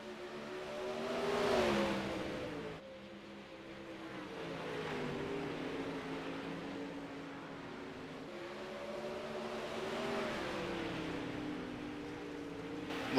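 Dirt race cars running side by side on a dirt track, engines droning and rising and falling in pitch as they pass, fairly faint and steady throughout with no talk over them.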